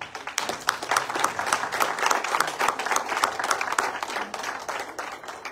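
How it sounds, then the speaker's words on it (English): An audience claps for teachers and trainers at a Junior Achievement Eswatini gathering, a lively burst of many hands with distinct sharp claps standing out, continuing steadily throughout. "Please clap for them."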